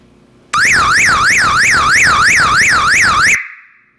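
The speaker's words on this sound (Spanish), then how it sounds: "se dispare la alarma que vamos a mostrarles en estos momentos" A reed switch door sensor trips an electronic alarm siren, a loud, rapidly warbling tone that starts abruptly, sweeps up and down steadily for about three seconds, then cuts off with a short fading tail.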